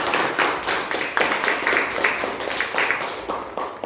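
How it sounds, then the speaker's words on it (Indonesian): A classroom audience gives a round of applause for a student named Hasan, steady rapid hand clapping from a small group, moderately loud and alone. "aplaus untuk Hasan"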